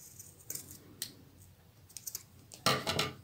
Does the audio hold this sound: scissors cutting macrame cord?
yes